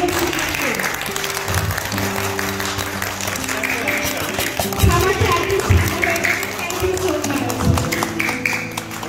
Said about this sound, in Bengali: জোরে একটা হাত তালি তোমাদের জন্য